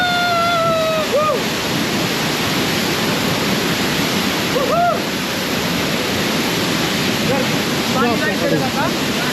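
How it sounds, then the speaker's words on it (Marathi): Steady broadband rush of a hidden waterfall in Tamhini Ghat, a loud continuous roar filling the whole clip, with brief whistle-like chirps and voices breaking through at intervals. "तर फायनली मित्रांनो आम्ही सिक्रेट वॉटरफॉल आलेलो आहे"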